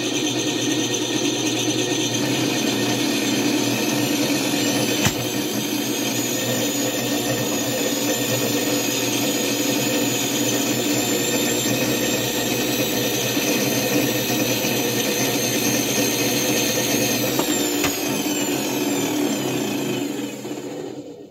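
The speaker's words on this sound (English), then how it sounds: "I got the motor and the generator wired together, and the charger will run the system" A motor coupled to a generator runs steadily for about twenty seconds, a continuous loud mechanical whir with gear-like rattling and a constant hum that fades slightly at the end; no one speaks.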